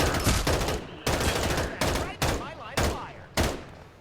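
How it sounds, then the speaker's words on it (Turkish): Rapid gunfire bursts from the video game Farlight 84, a series of loud, evenly spaced volleys of automatic shots about every half second, close and punchy with brief decays between them. "Silah sesleri giriyor."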